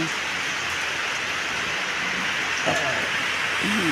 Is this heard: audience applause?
no